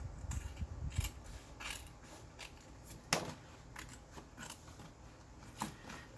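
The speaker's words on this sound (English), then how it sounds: "I'm going to take my scissors and just trim it up" Quiet snipping of scissors cutting paper, a string of light irregular clicks and crisp snips close by, with no talking.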